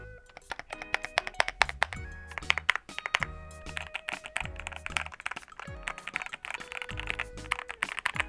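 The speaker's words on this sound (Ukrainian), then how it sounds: "Класично великі клавіші, такі як пробіл, Enter і Backspace, звучать трохи голосніше за інші." Rapid typing on a HATOR Icefall Pro keyboard with clacky, uneven keystrokes, louder thumps from large keys like space, Enter and Backspace, close and clear, with faint musical tones underneath.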